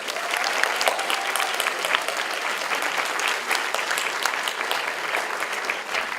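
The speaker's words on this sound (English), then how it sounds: "Can you give me a round of applause for Gilbert Forson, Hamina Perez, and Heaven" Sustained applause from a large audience at a high school senior scholarship and honors night, dense steady clapping filling the room with no break, loud and continuous.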